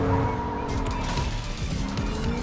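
A car engine drones steadily with tire squeals and skids, like driving in a video game, continuous and fairly loud throughout.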